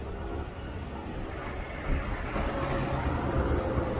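The Sialkot Express 172 DN passenger train rolls along the track with a steady, dense rumble and rattle of wagons, heard from on board, continuous and moderately loud with no talk.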